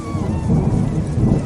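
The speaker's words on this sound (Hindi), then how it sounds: "उस रात गांव में भयंकर तूफान आया।" A violent village thunderstorm: deep rolling thunder rumbles under a dense, hissing downpour of rain, loud and continuous throughout.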